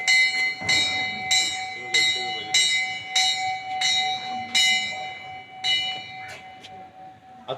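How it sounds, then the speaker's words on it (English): A bell rings loudly and repeatedly in a steady rhythm of about ten metallic strikes, each with a bright ringing overtone and a short decay, with a final fainter strike at the end. "rang the bell already"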